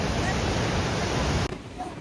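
The Saraswati river near Mana village in Uttarakhand's Mana Valley rushes in a loud, steady broadband roar of flowing water. The roar cuts down briefly near the end.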